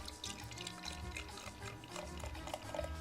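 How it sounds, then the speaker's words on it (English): Southern Tier Grand Arbor beer is poured into a glass, giving a soft, continuous liquid splash and trickle with faint fizzing, heard close up and quiet. "I'm going to go ahead, pour this one out, and just see how it is."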